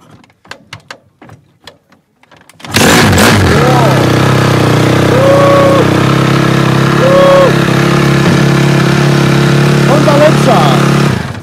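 Honda CRF dirt bike with freshly changed carburetor jets starting up after a few clicks and settling into a loud, steady close-range idle, with brief throttle blips over the running engine.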